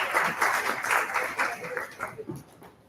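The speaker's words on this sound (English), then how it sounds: "Round of applause, everyone." An indoor audience at an AI Day conference in Hyderabad claps in a dense burst of applause that fades out over a few seconds.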